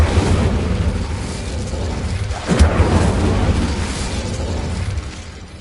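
An Incendio fire spell cast in a video game, heard as a loud, sustained roaring blast with a rumbling low end and a brief burst of heavier crackle partway through, fading near the end.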